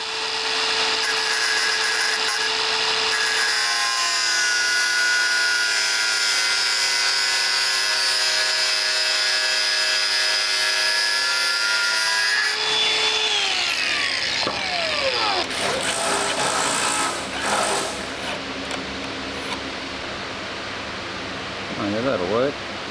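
A power tool cuts and grinds steel bolts in a workshop during restoration of an Australian WWI trophy, a loud continuous whine with shifting pitch that runs the whole time and ends in rougher grinding.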